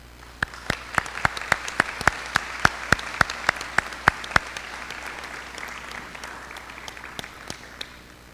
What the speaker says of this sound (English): Please give these individuals and businesses a round of applause.